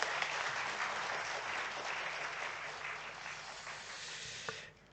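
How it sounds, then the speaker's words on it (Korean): A church congregation applauds in blessing, steady moderate clapping that fills the room for about four and a half seconds before tapering off abruptly. "우리 큰 박수로 우리 축복하도록 하겠습니다"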